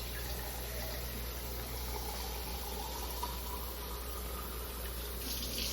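Steady broadband rush of water running from a tap, continuous and fairly close, with no speech.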